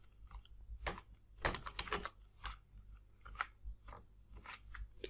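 Python code being typed on a computer keyboard, keystrokes coming in irregular bursts with a dense cluster in the middle, close and fairly quiet with no talking.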